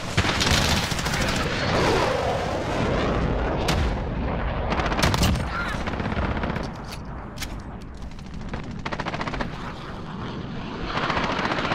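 Dense gunfire in a Modern Warfare 3v3 Hardpoint match: rapid automatic bursts and single shots crackle almost nonstop, with explosions and rumbling battle noise underneath, loud and close throughout.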